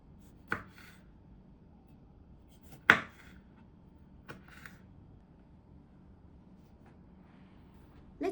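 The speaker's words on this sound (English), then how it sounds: "Cut the cherry tomatoes into quarters." Knife chopping cherry tomatoes into quarters on a board, a few sparse, sharp taps spaced seconds apart, close and quiet against a hushed kitchen background.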